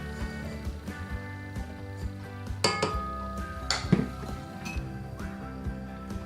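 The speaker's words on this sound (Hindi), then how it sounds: "और साथ ही मैदा डालकर इसको बीट करेंगे" Flour is beaten into buttermilk cake batter in a bowl, with repeated clinks and knocks of a whisk or spoon against the bowl over a faint background hum.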